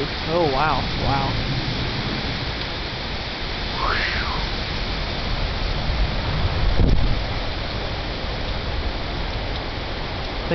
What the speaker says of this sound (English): These winds are pretty sustained.